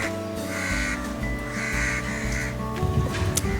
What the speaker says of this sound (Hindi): कौवे काएं काएं काएं कर रहे हैं।